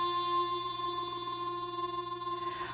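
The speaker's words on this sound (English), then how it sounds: "With impulse, it does sound a little buzzy, you know, kind of like an old machine that's just humming away" A buzzy granular synthesizer tone with impulse holds steady as a sustained, humming drone with layered pitches, fairly loud and close, with a slight brighter swell near the end and no voices.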